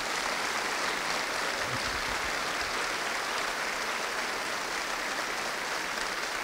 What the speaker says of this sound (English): please give a round of applause to both the participants